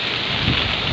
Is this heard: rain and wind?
yes